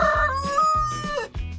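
A trained chicken gives a loud, close rooster-like crow with harmonic clucking calls, a few stuttered vocal bursts in quick succession, with no talking.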